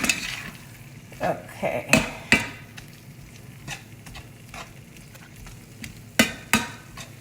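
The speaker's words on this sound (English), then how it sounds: "Now we stir some more." Metal utensil stirring oil and salt in a cooking pan, with scattered scrapes and clinks of the spoon against the pan over a low sizzle; a single brief word is spoken.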